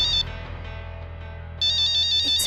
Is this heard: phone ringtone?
yes